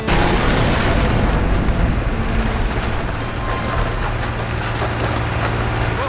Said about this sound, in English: The container ride destruction sequence provided some unique technical challenges.